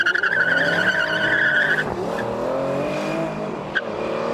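Old and new Aston Martin cars, some with Mercedes engines, launching in a drag race: loud engine roar with sharp tire squeal and skidding, the revving tone shifting as they pull away.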